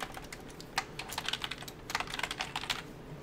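Quick, light keystrokes patter on a computer keyboard in uneven bursts, soft and close in a quiet room.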